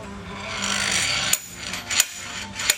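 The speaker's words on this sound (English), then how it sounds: "We did it by just using the slide hammer back and forth, and a combination of that and some pry bars" Metallic scraping and rasping as a slide hammer and pry bars work an oil pan off a Trailblazer engine, then three sharp knocks of the slide hammer striking, close and loud, with no talking.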